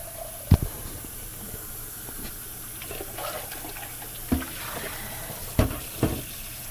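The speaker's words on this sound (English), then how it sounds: "So I'm just going to do a big hot water rinse in between colors." Hot water runs from a tap for rinsing tie-dye between colors, a steady soft hiss with a few brief splashes and knocks.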